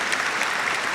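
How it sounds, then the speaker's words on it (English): Audience applause for a teacher at a 2021 Walgreens Expressions award ceremony, a dense, steady burst of clapping filling the short moment. "Let's make sure we give her a round of applause as well."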